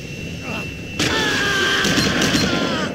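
A plane's engine starts up in the video game Kane & Lynch 2, a sudden loud rise into a steady roaring whine that holds under game noise and scattered clicks.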